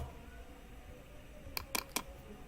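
A few quick computer keyboard keystrokes, typing an Excel formula, clicking in a short cluster, near and fairly crisp, against a quiet room background.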